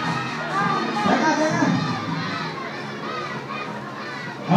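Crowd of high school students shouting a name together in a loud, sustained chant of overlapping young voices, with a sharp burst at the very end.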